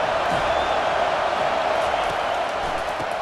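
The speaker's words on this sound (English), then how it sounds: "Decibels rising as the crowd gets behind this defense on 3rd down." Stadium crowd in the College Football 25 video game roaring as a dense, continuous wall of noise on a third down, loud and sustained throughout.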